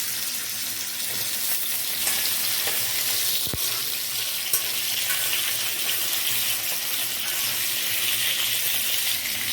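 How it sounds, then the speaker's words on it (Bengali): Potatoes with a little salt fry in two spoons of oil in a pan, giving a steady, close, loud sizzle that runs without a break, with one sharp clink partway through. "আমি দু চামচ তেল দিচ্ছি এর মধ্যে দিয়ে সামান্য লবণ দিয়ে আলুগুলোকে আমি ভেজে নিচ্ছি"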